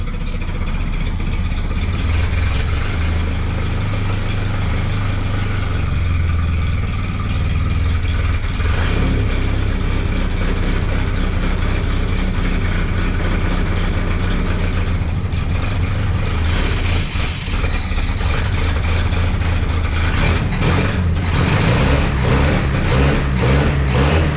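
A vintage Ford Model TT truck engine runs steadily for the whole stretch, a loud, close, rough low-pitched chug that swells as the throttle rises near the end, with no talking over it.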